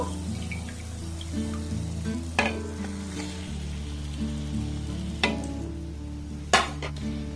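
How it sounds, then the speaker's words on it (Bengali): Puffed flatbreads deep-fry in hot oil, a continuous bubbling sizzle punctuated by a few sharp clinks and splashes as pieces are turned or lifted, close and fairly loud. "একইভাবে সবগুলোকে আমি ভেজে নেব এগুলো দেখবেন তেলের উপরে অটোমেটিক কিন্তু ভেসে উঠবে"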